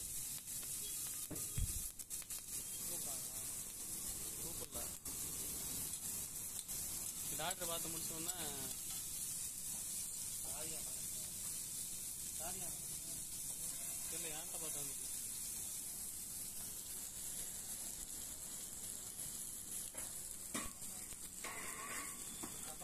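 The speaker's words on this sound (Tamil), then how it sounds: "வெங்காயம் நல்லா வதங்கிட்டுருக்கு" Onions frying in a pan for onion podi dosa, giving a steady, fairly loud sizzle with occasional stirring scrapes throughout.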